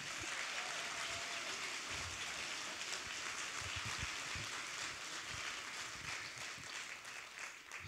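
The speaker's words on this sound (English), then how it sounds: "How about a round of applause for the band?" A concert crowd applauds the band, steady dense clapping throughout, evenly loud and sustained like rushing rain, with no talking over it.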